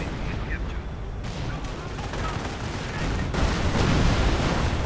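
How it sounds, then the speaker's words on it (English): Gunfire in a World War II strategy game battle, incendiary rounds hitting an anti-tank gun while a Henschel aircraft makes strafing runs, a dense continuous rattle of shots and blasts that swells louder toward the end under a commentator's voice. "we are seeing incendiary rounds going in on the second anti-tank gun"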